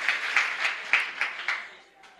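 A church congregation applauds, with a wash of clapping and rhythmic bursts of acclaim that swell and fade, ending in a softer, thinning patter.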